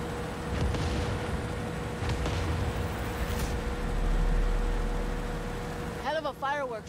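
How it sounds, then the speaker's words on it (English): Fireworks show explosions in the Far Cry 6 video game: a dense, loud, continuous rumble of booms and crackles that swells midway, with a short burst of warbling whistles near the end. "Fireworks show."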